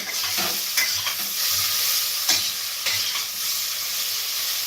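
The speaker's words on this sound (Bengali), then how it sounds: "আর এইদিকে দেখো আমার সবজিটাও হালকা হালকাভাবে ভাজা হয়ে গেছে" Vegetables frying in a pan with green chilli paste, stirred steadily; a continuous close sizzle with brief scraping strokes of the spatula, no talking.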